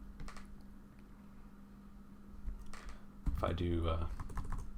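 Computer keyboard typing at a desk, a short run of soft close clicks followed by a brief spoken phrase over the keys.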